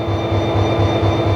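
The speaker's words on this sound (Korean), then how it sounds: "열차는 어느새 경전선의 4분의 1 지점인 보성역에 당도했습니다" A slow train on the Gyeongjeon line rolls into Boseong station, with a loud, steady low rumble, a rhythmic wheel thump and a sustained high whine.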